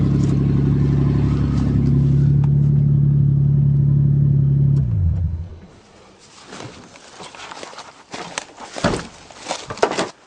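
A Toyota car left abandoned in a forest for 15 years idles loudly after starting, a steady close engine hum that cuts off about halfway, followed by quieter rustling and handling noises.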